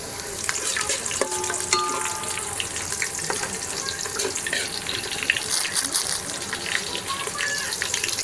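Green chillies hit browned onions in a pan over a village wood-fired chulha for mushroom biryani, giving a loud, steady sizzle with continuous stirring and scraping close by throughout.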